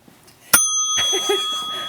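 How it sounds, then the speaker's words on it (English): A single bright bell strike rung as a reminder during a webinar session, a sharp metallic ding that rings on with a sustained tone while faint background sound continues. "That bell is to remind you to write down the CPE code"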